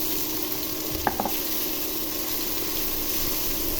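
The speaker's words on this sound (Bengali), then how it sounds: "তেল গরম হয়ে গেছে, এখন পেঁয়াজ কুচি দিয়ে দিব।" Chopped onions go into hot oil in a pan for a rohu fish curry with tomato, giving a steady soft sizzle with a couple of brief clinks or stirs near the start.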